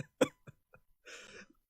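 A single sharp cough stands out near the start, followed by a few faint breathy bursts and a brief muffled exhalation, heard up close in an otherwise quiet moment.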